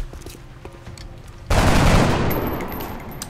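Burst of gunfire in XCOM: Enemy Within erupts suddenly after a quiet stretch, a loud dense volley of shots that rings out and slowly decays over the next two seconds.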